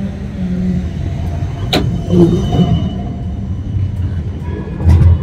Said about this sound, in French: J'ai les tramways qui passent, ça fait un ronronnement.